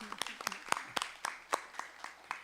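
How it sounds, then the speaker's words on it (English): About ten scattered, separate hand claps from a small audience, sharp and spaced unevenly, faint and somewhat distant. "give a round of applause right now"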